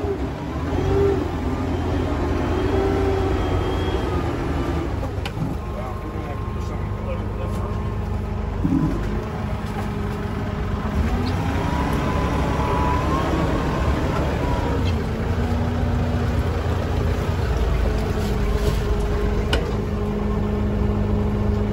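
Sherp Pro XT amphibious ATV stuck in a deep mud hole, its engine droning steadily at a strained, labouring pitch throughout, close up, with people talking over it.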